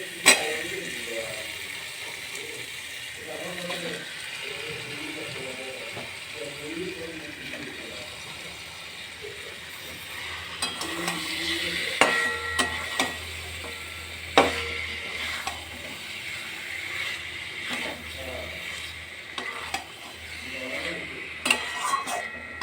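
Chicken pieces tipped into cooked-down spiced masala in a pan, with a continuous sizzle, scraping stirs and clicking utensil knocks, plus a murmuring voice early on.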